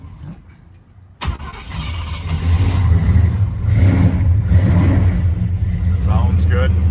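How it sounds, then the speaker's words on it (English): A 1976 Ford F-150 pickup cranks briefly, catches with a sharp start, then settles into a loud, steady idle close by, with someone talking over the engine. "Start up our 76 F-150 here"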